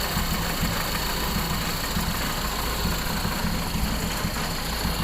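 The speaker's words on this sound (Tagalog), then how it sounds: "Tahimik ko yung makina." A Toyota single-cab pickup engine idles steadily and close by, a continuous low rumble with a faint rhythmic knock and no voices.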